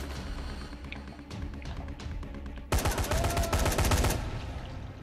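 Rapid automatic gunfire in the video game Dying Light, a loud burst of close, rattling shots lasting over a second after quieter game ambience and scattered taps.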